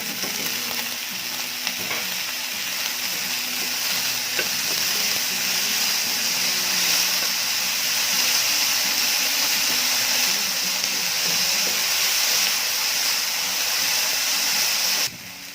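Onion and diced potatoes fry in a pan for an omelette rice dish, giving a steady, even sizzle and hiss with occasional stirring scrapes that continues unbroken for over fifteen seconds.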